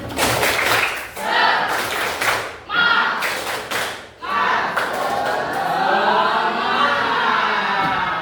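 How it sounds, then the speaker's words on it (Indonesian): A group in a religious-education teacher-training session performs a rhythmic spirit clap: loud, close bursts of many hands in quick patterned volleys with short pauses, followed by raised chanting voices. "Coba tepuk semangat."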